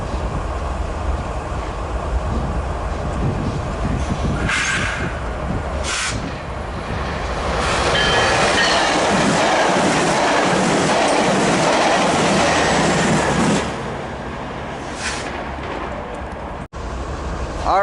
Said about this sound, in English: Last train from Paris South to LA of the day on the 91 line.